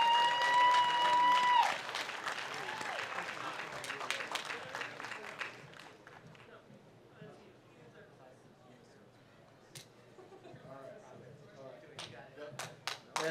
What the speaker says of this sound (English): let's give them a round of applause for all their hard work here.